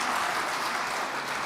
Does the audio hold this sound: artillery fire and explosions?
no